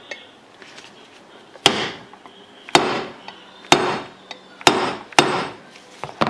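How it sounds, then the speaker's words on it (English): A hammer strikes a large brass punch to drive a pin through a Star Model B pistol, giving six sharp, close metallic taps at uneven intervals with quiet handling noise between them. "now I'm going to drive this pin through all the way using a large brass punch"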